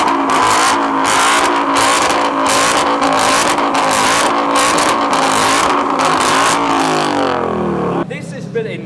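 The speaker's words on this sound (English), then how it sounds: "A 5-litre Toyota V8 in this. The V8 starts." A 5-litre Toyota V8 starts and roars at high revs in repeated pulsing bursts, loud and close, then winds down before idling low at the end.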